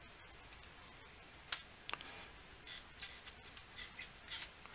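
Sharp mouse clicks at a computer while working in SketchUp, a few soft, close clicks scattered irregularly over a quiet, hissy background.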